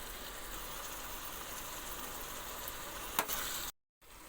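Tomato, green chili and ginger-garlic paste fry in a pan with a steady, even sizzle, broken by a brief sharp clink near the end and a short silent gap.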